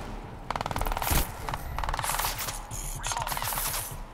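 Rapid automatic gunfire in Crysis 2, loud, close bursts of fire with brief gaps between them, over a steady game soundscape with no talk.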